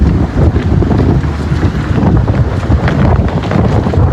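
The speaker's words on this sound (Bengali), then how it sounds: "বাতাস, সেই বাতাস" Strong wind during a rainy morning in Gazipur roars loud and continuous, buffeting the microphone in a steady, unbroken rush.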